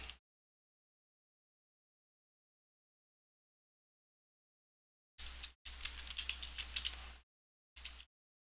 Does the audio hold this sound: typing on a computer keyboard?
yes